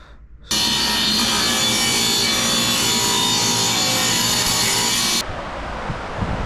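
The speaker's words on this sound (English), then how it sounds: "to do a miter cut." Power saw making a miter cut in wainscot rail wood, a loud sustained whine starting abruptly and running about five seconds before cutting off, close up with no talk.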